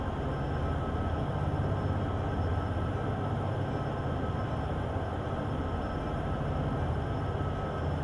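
A Class 395 train running in Train Sim World 2, giving a steady low rumble and hum at moderate level throughout, with no talking.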